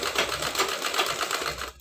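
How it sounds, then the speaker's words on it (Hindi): A sewing machine stitches fabric for a frill blouse, running in a steady rapid mechanical chatter, loud and close, with no voices over it. "इधर साइड से सिलाई लगाते जाएंगे इस तरह"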